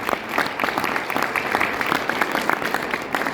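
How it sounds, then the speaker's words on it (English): A seminar audience claps for a presenter named Celeste at a training event in Poland, steady close applause throughout. "Let's give Celeste a big round of applause."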